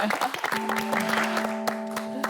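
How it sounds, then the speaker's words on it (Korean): Studio audience applause on a Korean talk show, a bright wash of clapping lasting a couple of seconds, with sustained musical tones and some voices mixed in underneath. "윤영주 마담님의 이야기 박수를 청해드립니다"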